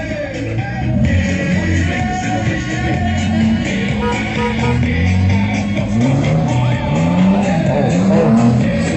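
Monster truck engines roaring and revving at a show in Weil am Rhein, a loud, continuous drone with rising and falling pitch sweeps as the truck accelerates, crowd noise underneath.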